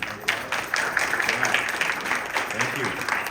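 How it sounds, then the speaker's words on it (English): People at a school district community meeting clap in a steady round of applause, moderately loud and continuous with some voices mixed in. "Let's give a round of applause."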